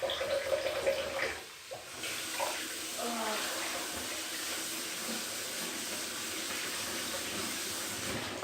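Tap water runs steadily into a kitchen sink, a broad continuous hiss that holds at an even level for most of the stretch after a brief dip near the start.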